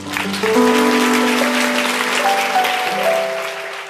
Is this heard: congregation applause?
yes